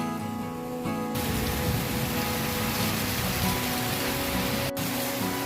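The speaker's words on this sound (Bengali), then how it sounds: "এই দেখো এখন বৃষ্টি পড়ছে কি জোরে বৃষ্টি পড়ছে" Heavy monsoon rain pours onto a garden, a dense, loud hiss of drops that starts abruptly after a second and continues steadily, with a brief break near the end.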